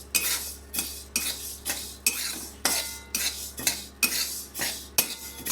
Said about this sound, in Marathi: असं आपण मिक्स करतच याला भाजायचं आहे.